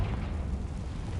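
Bombarda and Confringo spell explosions in Hogwarts Legacy: a short, close, heavy booming rumble, dense and low, sustained for just over a second without a break.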